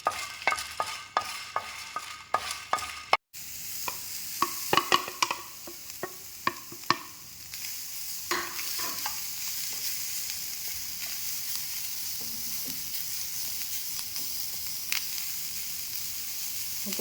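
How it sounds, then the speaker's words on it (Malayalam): Whole black peppercorns dry-roasting in a pan, stirred with sharp scraping clicks in the opening seconds, then a steady soft sizzle-like hiss with occasional light taps, close and alone with no talk. "കുരുമുളക് കൂടി ഒന്ന് വറുത്തെടുക്കാം."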